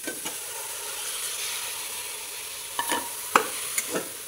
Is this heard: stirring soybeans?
yes